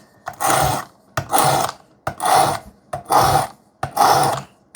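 Demko knife with 3V steel drawn across a Work Sharp sharpener in five evenly spaced rasping strokes, each a loud, close, gritty scrape with short pauses between.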